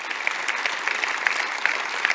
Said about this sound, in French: je crois qu'on peut à nouveau applaudir Éric Andrieux